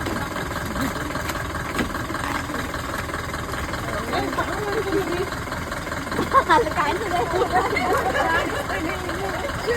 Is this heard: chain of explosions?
no